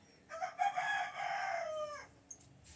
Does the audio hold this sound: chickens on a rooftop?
yes